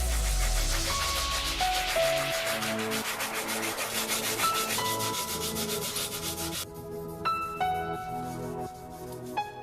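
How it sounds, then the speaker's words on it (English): A forged railroad spike knife blade is hand sanded through sandpaper grits, giving a steady, close rhythmic rubbing of back-and-forth strokes. Faint metallic ringing runs underneath, and the pace holds even throughout with no talking. "Right there you saw me work from 150 to 2000 grit in sandpaper"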